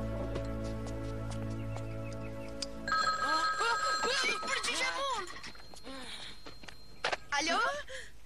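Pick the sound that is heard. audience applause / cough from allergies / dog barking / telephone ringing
telephone ringing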